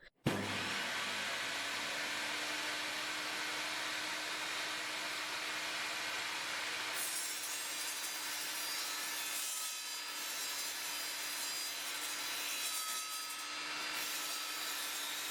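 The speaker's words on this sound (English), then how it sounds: "I just want to show how the saw copes with some 3mm thick steel." An Evolution Fury5-S table saw cuts through 3mm thick steel, giving a loud, continuous harsh grinding rasp over a steady motor hum, close by, with shifts in tone as the blade bites and no talking.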